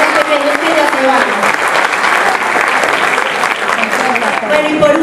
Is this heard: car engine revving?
no